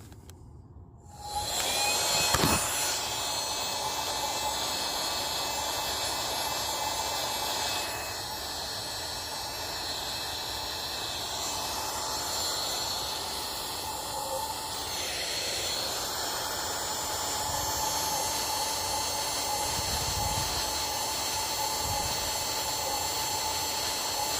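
A small handheld vacuum whirs steadily and close for a long stretch, drawing pollen out of a cut-open Stenocereus cactus flower, its hissing drone shifting slightly in pitch now and then.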